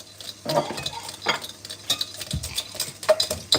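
A spoon stirs chocolate cake batter with eggs in a bowl, making irregular scraping and clinking strokes against the bowl with splashy wet bursts, close and fairly loud, and no one talking.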